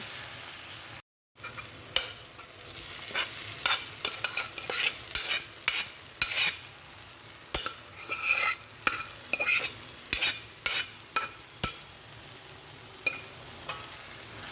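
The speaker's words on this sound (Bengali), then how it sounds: "এবার আমি এর সঙ্গে মিশিয়ে দেবো সিদ্ধ করে রাখা ডালটা" A spoon stirs boiled lentils into softened tomato masala in a pan, with repeated close scraping and clinking strokes over a steady sizzle and no talking.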